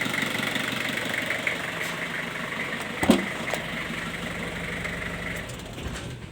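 Engine of a 1997 Nissan Big-M pickup idling steadily, a close, even low rumble with faint knocking that continues for several seconds, one brief clunk in the middle.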